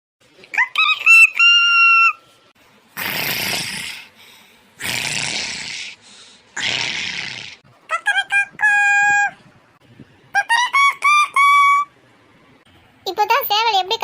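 A rooster crows several times in an imitated way, interleaved with loud, close snoring-like breaths, in a home setting early in the morning, with no talk over it.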